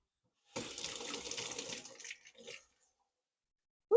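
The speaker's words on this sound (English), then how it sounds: "I'm going to rinse my hand off." Running tap water while a hand is rinsed at a kitchen sink after baking a banana cake, a soft, close splash lasting about two seconds that trickles off, followed by a brief thump.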